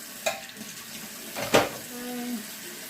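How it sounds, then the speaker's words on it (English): Cold tap water runs into a sink while a blue-dyed synthetic wig is rinsed, a steady close rush broken by a few splashy surges and handling noises. "Okay, let's run it through the cold water."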